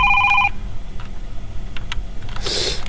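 A telephone rings in a horror video game, a steady electronic ring for half a second. Quiet ambient game noise follows, with a brief louder burst near the end.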